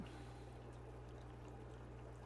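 Water runs steadily through a fish holding and breeding box in an aquarium, a constant close hiss and gurgle of flow with a low hum underneath and no pauses.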